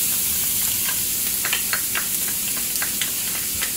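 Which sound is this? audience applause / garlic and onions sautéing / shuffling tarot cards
garlic and onions sautéing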